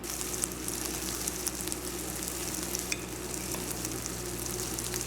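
Sausages, Trini-style hot dogs, frying in a pan with seasoning, a steady dense sizzle with crackling pops throughout, close and continuous.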